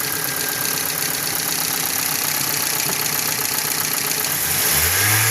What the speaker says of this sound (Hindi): ऑनर जो है ना वो खुद रेस देगा